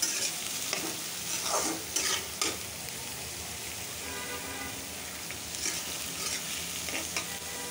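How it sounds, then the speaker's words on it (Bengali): Onions fry in a pan with a steady crackling sizzle, and several bursts of stirring scrape and rustle through it close by. No one speaks. "পেঁয়াজগুলি দিয়ে দিলাম, এখন পেঁয়াজগুলি ভাজবো।"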